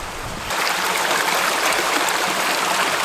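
A river on the GR70 trek near Mont Lozère rushes loudly and steadily, close at hand, as water is fetched on a hiking trip, with a quieter moment before the full flow takes over.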